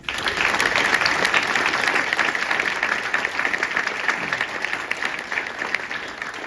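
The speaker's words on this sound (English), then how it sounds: "Let's give them another round of applause." Sustained round of applause from an audience at a police department promotion ceremony honoring newly promoted supervisors, dense steady clapping throughout with no talk.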